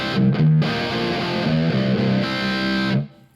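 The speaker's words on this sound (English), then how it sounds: "it's tuned to C standard tuning, and without any pedals, just with the nifty 50, it sounds like this" Aluminium-neck electric guitar tuned to C standard, played with no pedals through a Nifty 50 amp: a short riff of sustained, slightly driven chords and notes that rings out, then cuts off abruptly, no voices.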